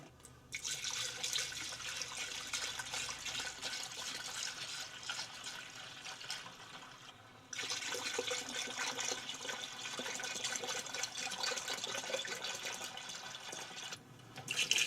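Premixed coolant and distilled water pours steadily into the reservoir of a Chevrolet Silverado 2500HD, a continuous rushing, splashing flow that pauses briefly midway then resumes, close by.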